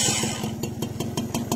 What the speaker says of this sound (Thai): มาดูฟังเสียงเครื่องกันครับ